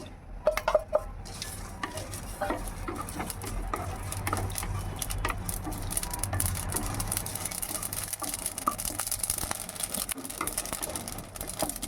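Black cumin seeds frying in a pan for a bottle gourd leaf mash, a steady close crackle and sizzle with small stirring clatters of utensil against pan, no voices.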